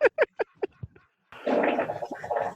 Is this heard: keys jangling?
no